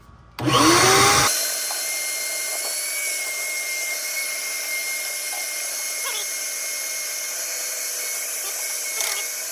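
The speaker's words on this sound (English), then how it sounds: "completely vacuum out the fire pot, get the sides back, get all the ash out." A vacuum sucks ash out of the fire pot of a Traeger pellet grill, starting with a loud rattling burst as debris is pulled in, then settling into a steady whine with occasional clatters.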